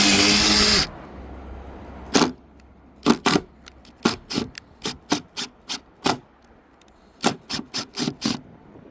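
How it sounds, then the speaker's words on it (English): A screw is driven into fiberglass on a boat deck to cut threads for a magnet mount, giving a series of short, sharp rasping squeaks in an uneven rhythm after a brief opening burst of noise. "with the provided screw that comes in the box, you're going to use this screw to thread the fiberglass"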